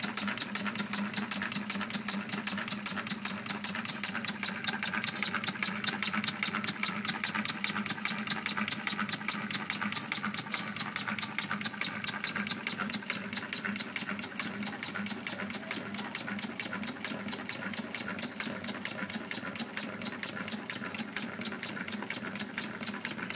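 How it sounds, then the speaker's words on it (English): A Lego single-cylinder engine with a fly-ball governor flywheel runs steadily and close up, its rapid, even mechanical ticking and whirring holding a constant rhythm throughout with no one talking. "This is my Flyball single cylinder engine. It has a Flyball governor type flywheel."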